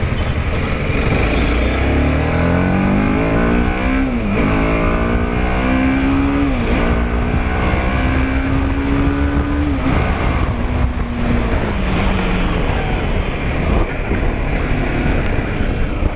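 A TVS Apache RR310 motorcycle revs hard while riding, its engine note climbing and falling through repeated gear-shift sweeps over steady wind roar, loud and close throughout.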